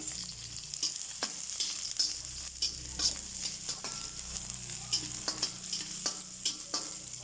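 Garlic and onion sautéing in a pan for home-style chicken feet adobo, a steady close sizzle with faint stirring clicks running throughout, no voices.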